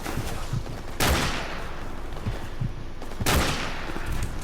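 Gunfire in Call of Duty: Modern Warfare, two loud broadband bursts of rapid shots roughly two seconds apart, set against steady battlefield rumble and scattered distant pops.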